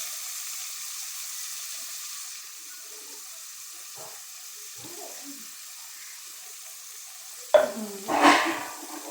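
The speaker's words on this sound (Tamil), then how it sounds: "தக்காளி போட்டு நல்லா மிக்ஸ் ஆக்குறோம். நல்லா வதங்கி வரட்டும்." Tomatoes cook in a pan: a faint low sizzle with a few soft scraping stirs, then louder clattering spoon-against-pan stirring bursts near the end, with no talking.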